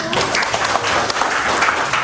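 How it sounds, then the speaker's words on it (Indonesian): A short burst of clapping for a student group at a classroom training session, scattered and moderately loud, with a faint murmur of voices under it. "Tepuk tangannya untuk kelompok 1."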